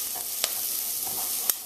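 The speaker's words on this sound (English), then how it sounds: "Then it's all about going in with the okra" Okra going into a hot pan with garlic and pimento, sizzling steadily up close, with a couple of sharp stirring scrapes and no talk.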